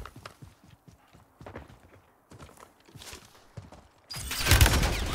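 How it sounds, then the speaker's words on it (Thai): Footsteps of a player character in the Call of Duty Warzone video game, a run of soft, quick steps at moderate distance, followed by a sudden loud burst of noise near the end. "นี่เสียงเท้าอยู่"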